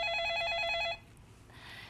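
A telephone rings for an incoming call on a live stock-consultation broadcast, a bright repeating electronic trill lasting about a second before cutting off into quiet studio hiss.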